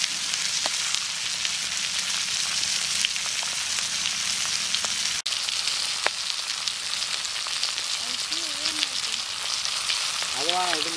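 Pomfret fish frying in oil in a village kitchen, a steady dense sizzle throughout, with a few small clicks and one sharp knock partway through.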